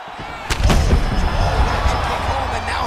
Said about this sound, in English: Such a sneaky head kick.